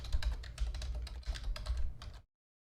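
Quick, uneven clicks of keys being typed on a computer keyboard, close and crisp, for about two seconds before stopping.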